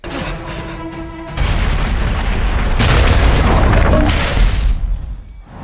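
A bomb goes off in a mercenary action film, a loud, sustained boom with rumbling debris that swells and roars for several seconds before cutting to quiet.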